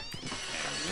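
A cat meows in the video game Postal: one short, close, tonal cry that rises and then holds, heard alone without talk.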